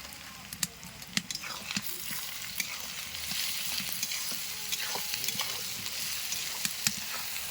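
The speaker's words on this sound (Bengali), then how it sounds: "পেঁয়াজ কষা হয়ে গেছে এর মধ্যে একটু নুন দিয়ে দিই" Onions fry with salt in a pan while cooking chicken kasha, making a soft, continuous crackling sizzle dotted with sharp little pops throughout.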